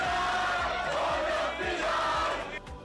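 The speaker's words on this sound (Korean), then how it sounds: "프랑스 축구 팬들은 환호성을 지르고 국기에 입을 맞추며 기쁨을 만끽합니다" French football fans celebrate a 2-0 World Cup semi-final win over Morocco with a dense, continuous roar of cheering and shouting, loud and sustained, easing slightly at the end.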